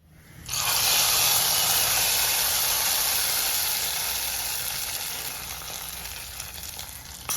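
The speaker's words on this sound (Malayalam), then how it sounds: "നമ്മുടെ വറവ് നന്നായിട്ട് മൂത്തിട്ടുണ്ട് നമുക്ക് കറിയിലേക്ക് ഒഴിച്ചു" Hot tempering, fried until well browned, poured into a Kerala-style banana and lentil curry, setting off a sudden loud, close sizzle that holds steady and slowly fades over several seconds.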